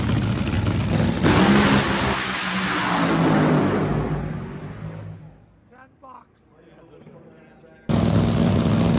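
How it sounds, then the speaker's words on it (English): Fast race car at Indianapolis roaring past loud and close, the engine note sweeping down as it passes, then fading before a second car bursts in loudly at the end. "Indy, the only place on the planet where the cars are so fast it hurts."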